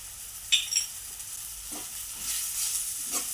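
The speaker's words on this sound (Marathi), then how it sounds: "हे चांगलं परतून घेऊया थोडीशी हळद आपला कांदा लसूण काळा मसाला" Onion, garlic and black masala with turmeric and chopped tomato sautéed in a pan, soft frying sizzle with a few stirring scrapes of a spoon, close and steady, no talking.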